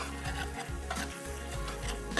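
Boiled beef added to browned masala in a hot pan for a desi beef boti dish, sizzling steadily with repeated scraping stirs of a spoon, close and continuous with no talking.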